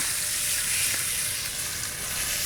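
Steak's fat side sears in a hot pan with the cut stood on its edge, giving a steady, loud, continuous sizzle and crackle with no talking.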